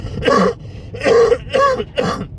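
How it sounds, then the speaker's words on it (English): Four rough, throaty coughs in a row, close and fairly loud, each separated by a short pause. "sorry, I've got a bad cough, as you can tell."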